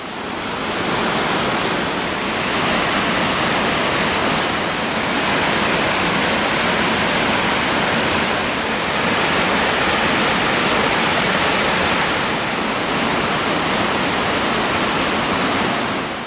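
A steady, powerful roar of a tall canyon waterfall falling over limestone, broadband and unbroken, close by and loud, with slight swells in intensity and no voices.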